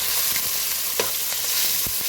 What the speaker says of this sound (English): I'm going to stir this around